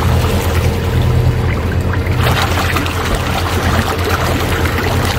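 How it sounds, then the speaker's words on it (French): Water pouring and trickling over feet to rinse off a clay poultice, aboard a boat at sea off Mallorca, a steady continuous splash with low rumble beneath. "Là, je suis en train de rincer le cataplasme."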